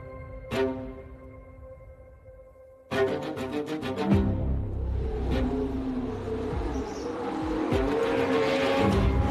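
Haas Formula 1 race car on the Silverstone circuit, a high-pitched engine rising in revs over a sustained roar after a quiet tonal opening, moderately loud with no talk.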